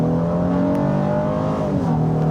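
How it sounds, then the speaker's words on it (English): A 2024 Honda Ridgeline Trailsport pickup accelerates hard in sport mode, a loud, steady engine drone climbing in pitch from inside the cab, then dipping briefly as it shifts. "I'm gonna go with the acceleration. I'll put it in this sport mode."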